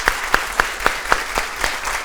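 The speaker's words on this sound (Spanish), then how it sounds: "Así que un aplauso también para ellos." Studio audience applause on a Peruvian television program, a close, steady burst of clapping with evenly spaced sharp claps, heard alone.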